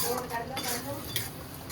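A spoon stirs pulao cooking in a kadhai, giving soft, continuous scraping and shuffling over a faint sizzle, with a light metallic tap near the end; close but quiet, no voices.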